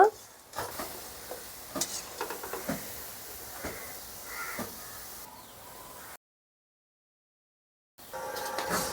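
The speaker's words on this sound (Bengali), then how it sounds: "নাড়াচাড়া করে লাল লাল করে ভেজে নেব গোলাপ জামুনগুলো" Gulab jamun frying in hot oil, with a steady sizzle and repeated scraping stirs against the pan. The sound cuts out to silence for a couple of seconds before the sizzle resumes near the end, with no talking.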